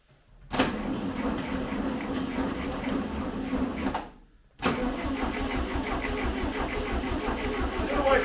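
A 1971 VW Beetle engine cranks and catches, running steadily, cuts out briefly, then is cranked again and fires back up, loud and close throughout with no talk.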